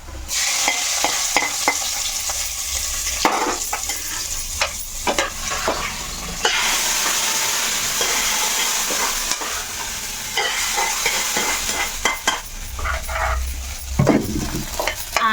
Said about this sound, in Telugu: ఇప్పుడు తాలింపు వేసుకుందాం